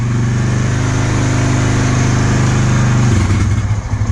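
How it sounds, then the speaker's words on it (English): A Honda TRX300FW ATV engine runs steadily and loudly close by, idling up when the choke is moved. Its throbbing low drone shifts in pitch near the end. "The bike idled up when I moved the choke."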